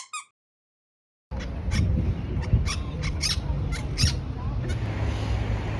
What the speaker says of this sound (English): on the tree there's quite several parrots on it